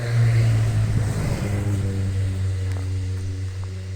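Motorcycle engines on a mountain road, a loud steady rumbling drone close by that holds across the whole stretch before easing slightly, with no talk over it.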